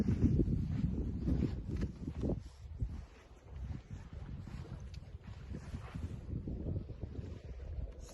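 Wind gusts at a lakeside beach, buffeting the microphone with a continuous low rumble that rises and falls unevenly throughout.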